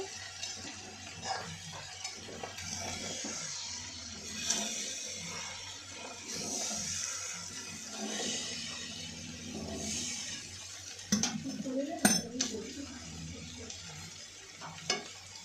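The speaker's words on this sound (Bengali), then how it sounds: "এখানে এখন কষানো হচ্ছে সব মশলা দিয়ে।" Rice, lentils and spices for khichuri being sautéed in a pot, with steady frying sizzle and scraping stirs throughout, a few sharper metallic clinks near the end, close and fairly loud with no talk.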